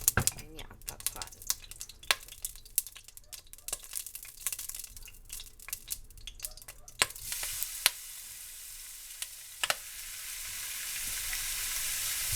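Olive oil sizzles and crackles in a hot pan, with sharp pops scattered over a steady frying hiss that swells louder toward the end; close by, with a few soft voices in the room.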